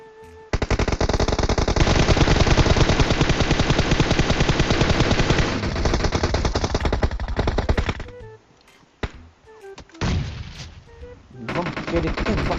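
Heavy automatic gunfire in the mobile battle-royale game PUBG Mobile on the Erangel map, loud rapid bursts running several seconds, then scattered shots and pauses, with players talking.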